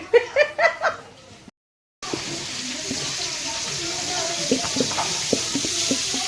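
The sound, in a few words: chicken being cooked in a pan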